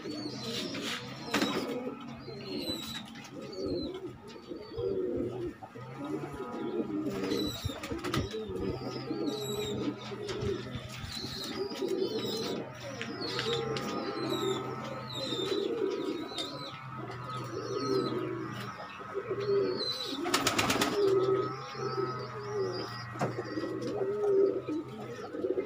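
Pigeons coo steadily in a loft, soft repeated throaty calls layered over one another with occasional chirps and a brief flutter of wings, with no talking.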